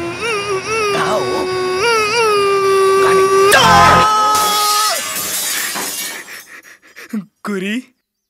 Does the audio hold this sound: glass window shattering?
yes